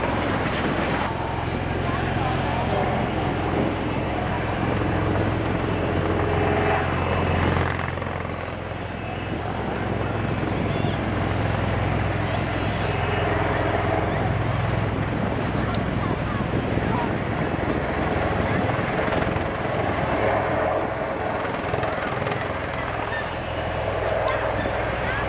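A Bell Boeing MV-22 Osprey tiltrotor flying its display at the RIAT 2012 airshow gives a loud, steady rotor roar that fills the whole stretch, with a commentator speaking over it.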